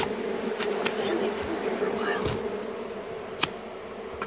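Honeybees buzz in a dense, continuous swarm drone during a bee removal, with scattered sharp knocks and clicks coming through the hum.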